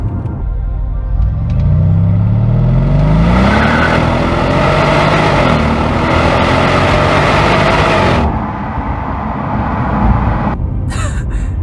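A Mercedes-Benz CL500 in sport mode pulls hard at full throttle, its engine note rising steadily and loudly through the rev range with a gear change, sustained and close, ending abruptly after about eight seconds.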